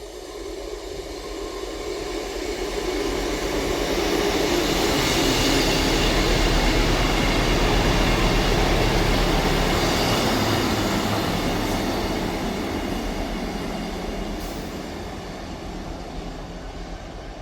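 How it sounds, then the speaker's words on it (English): A ScotRail class 158 diesel unit on the Leven to Edinburgh Waverley service rumbles through a station, a loud continuous roar of engine and rolling wheels that builds, peaks and slowly eases, with a faint squeal near the end. "Arriving in now is the other 12:08 Scotrail service from Leven to Edinburgh Waverley"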